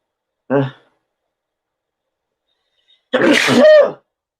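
Two sneezes: a short, sharp one, then after a pause of silence a louder, longer sneeze, close up.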